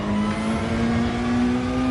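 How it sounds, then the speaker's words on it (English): A race car in Gran Turismo 7 accelerates hard, its engine holding one steady, loud rising drone throughout, with no voices over it. "Just lay into the throttle and just keeps accelerating, accelerating"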